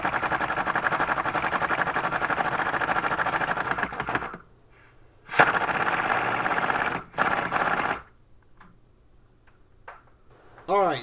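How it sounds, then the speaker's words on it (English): Air impact wrench running low on air during a front strut install on a 2005 Nissan Frontier, a loud rattling hammer burst that weakens and stops, followed by two shorter sputtering bursts and a brief final one, with quiet gaps between. "you can hear my impact is out of air"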